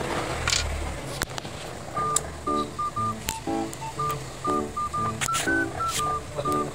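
Phone keypad dialing tones beep in quick irregular groups of short, steady electronic pitches, close and clear, over faint room background with no clear speech.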